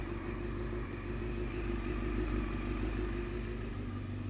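A 1993 Honda CBR900RR motorcycle engine idles steadily while warming up, a continuous close, fairly loud mid-pitched drone with an even pulsing rhythm and no talk.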